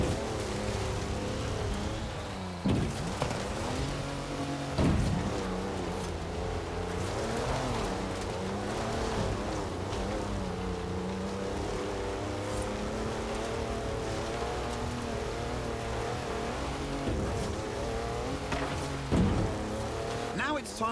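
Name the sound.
car engine racing in the Forza Horizon 4 video game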